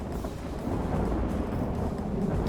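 Low rumbling thunder from a lightning storm during a Lord of the Rings battle video game, a steady deep roll with wind-like noise, moderately loud and swelling slightly partway through, no talking.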